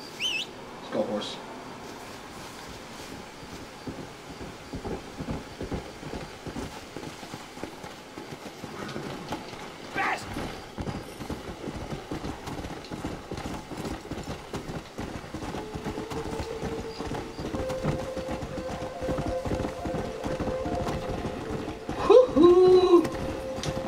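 Horse hooves clip-clop in the Red Dead Redemption video game, a steady trotting rhythm that grows more regular in the second half, set against game ambience and music.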